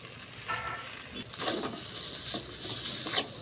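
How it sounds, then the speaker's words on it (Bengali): Boiled potato is stirred with chilli powder in a wok: irregular spatula scrapes and pushes over a soft background sizzle, close and moderately loud. "একটু মিশিয়ে নিচ্ছি, আর কড়ার তলায় লেগে যাবে।"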